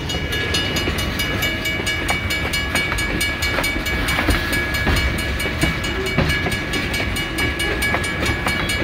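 A San Joaquin Valley Railroad train led by locomotives 2405 and 2408 rumbles steadily past nearby at Maple Ave, Fresno, wheels clacking over rail joints with metallic squeals and clanks, loud and continuous throughout.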